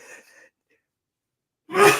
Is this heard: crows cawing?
no